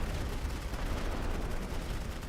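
Light artillery fire in the World War I strategy game The Great War: Western Front, a steady rumbling barrage of dense blasts and crackling gunfire that stays fairly distant and continuous, with no talk over it.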